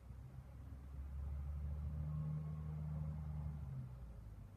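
A school bus engine rumbles past at low pitch, swelling to a steady drone in the middle and easing off at the end, moderately distant with no voices.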